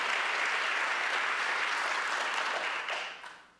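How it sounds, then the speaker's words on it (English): An audience at a public schools state-of-the-schools address applauds students, a full, dense round of clapping held steady before fading out near the end. "So let's give a round of applause to our students"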